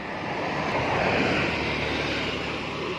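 Water sprays hard and steadily from a hose onto tender Chinese cabbage and kale seedlings, a continuous broadband hiss close to the mic for the whole stretch, with no talk.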